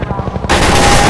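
Helicopter gunfire in Half-Life 2, rapid rhythmic shots at first, then a sudden loud, continuous blast of automatic fire filling the rest of the moment.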